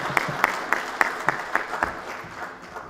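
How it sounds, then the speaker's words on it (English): An audience at the inaugural Kenneth Kaunda Lecture by Thabo Mbeki claps for Hezron Ngosa in a strong, regular rhythm of unison beats, about four per second, gradually fading toward the end. "let's give a big round of applause to Hezron Ngosa as he comes through now"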